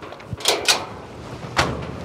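A door is opened with a few quick knocking and rattling impacts, close and moderately loud, spread over about two seconds with no voices.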